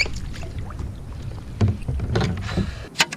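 Paddle strokes splash and drip in water from a Stealth Fusion 480 board, with soft wind noise, a few louder splashes near the end and no talking.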